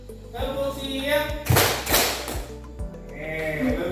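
Children in a classroom clap together during a tepuk call-and-response clapping game, with a dense burst of clapping in the middle and a few soft thuds before and after, under a sung or chanted voice.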